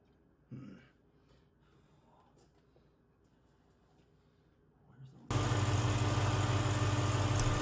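A car engine with a glass radiator hose and fresh green coolant rumbles steadily at idle once it starts, loud and constant after a quiet stretch with a few faint handling sounds.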